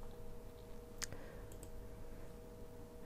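A single sharp mouse click lands about a second in, followed by a fainter second tick, over a steady low hum while setting up the Cisco ISE app for Splunk.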